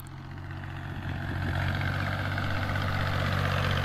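A tractor model 480 with a trolley hitched sits idling nearby in a Punjab village. Its engine gives a steady, low rumbling hum that swells slightly after the first second and then holds evenly, with no talking.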